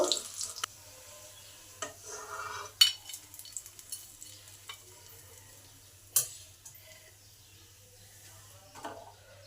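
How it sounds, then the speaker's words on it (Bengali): Fish chops fry in hot oil over medium heat, with a soft steady sizzle broken by sharp scraping and clinking of a spatula stirring them. No one speaks. "এবার আবার কিছু চপ ভাজবো"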